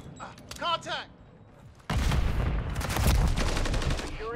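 Call of Duty MW3 gunfire: rapid automatic bursts erupt loud and close after a brief voice exchange, sustained rattling shots filling the second half.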